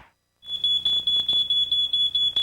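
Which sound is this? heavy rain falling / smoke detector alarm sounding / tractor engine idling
smoke detector alarm sounding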